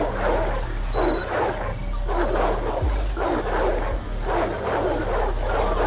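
Dogs in the video game Oddworld Soulstorm bark and snarl in repeated rough bursts, five or six loud barks at a fairly steady pace over a constant low rumbling game backdrop.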